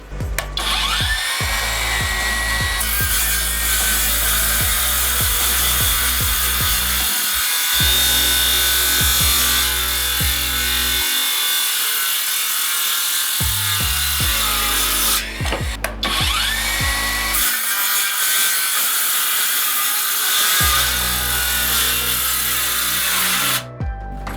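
A REVOLT cordless circular saw cuts through a 50x150 wooden board, a loud sustained whine and bite into the wood, running in long stretches with two short pauses where the motor spins down and restarts.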